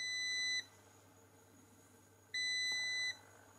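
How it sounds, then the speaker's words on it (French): A Parkside PWBKA 4 A1 thermal camera's over-temperature alarm sounds two long electronic beeps, each about half a second or more, separated by a pause, over a quiet hum. "dès qu'on dépasse la température indiquée,"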